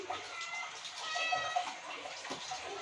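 A house cat meows a few times in a home kitchen where fresh catla fish is being cut, with faint calls amid quiet background noise.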